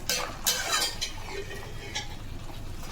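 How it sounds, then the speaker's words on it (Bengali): Chicken is sautéed with spices in an oil-slicked pan, giving a continuous soft sizzle with scraping and stirring against the pan and occasional light clinks of a utensil, close by and steady throughout. "আমি মাংসের সাথে কিছুটা মশলা এভাবে কষে তেল বার করবো"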